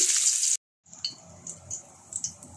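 Garlic tempered in hot white oil in a wok, a brief loud hiss cutting off, then soft scattered sizzles and pops with gentle stirring taps.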